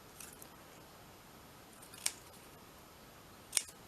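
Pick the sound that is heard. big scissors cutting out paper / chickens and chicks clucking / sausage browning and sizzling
big scissors cutting out paper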